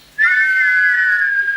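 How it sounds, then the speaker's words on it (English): A life jacket whistle gives one sustained shrill blast of about a second and a half, loud and close, starting sharply and holding steady with no voices. "blow on the whistle in the life jacket"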